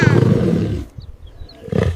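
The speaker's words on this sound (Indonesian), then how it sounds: "Lion." A lion lets out a loud, rough, close roar that breaks off, followed by a quieter pause with faint high cries, then a second roar swells at the end.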